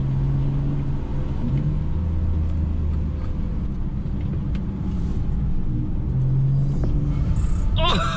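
A car with replaced trailing arm bushings is driven hard into a tight corner, its engine rumble and road noise steady and loud throughout, with a brief rise near the end.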